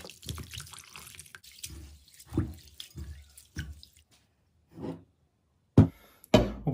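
Water pouring and splashing into a bowl of soaking rice in a home kitchen while making chicken dum biryani, arriving in several short separate bursts with quiet gaps between, close and moderately loud.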